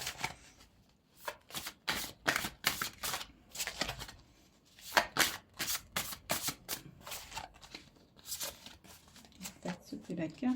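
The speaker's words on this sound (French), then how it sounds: "Donc on va retirer quelques cartes." Oracle cards are shuffled and drawn in a series of quick papery riffles and slaps, coming in close rhythmic bursts with soft talk between them.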